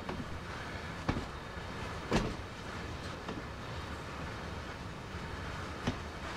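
A train in Train Sim World moves hopper railcars, a steady low rolling rumble with occasional sharp clanks and clicks of couplings, heard from the rear car with no talk.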